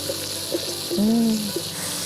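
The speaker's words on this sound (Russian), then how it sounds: "опускаем наш лучок. И будем его утушивать где-то в половину." Sliced onion dropped into hot oil in a pan, a steady close sizzle with a short tonal murmur rising over it midway.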